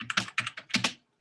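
Rapid typing on a computer keyboard, a quick cluster of crisp close key clicks in uneven bursts, then a brief pause and one more tap.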